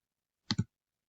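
A computer mouse clicks twice in quick succession, close and crisp against silence.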